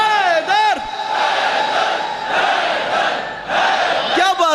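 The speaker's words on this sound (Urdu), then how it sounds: "جو سمجھ گئے مل کے بولو حیدر حیدر" A crowd at a majlis chants "Haider" together, a loud sustained roar of many voices, with a voice leading before and after.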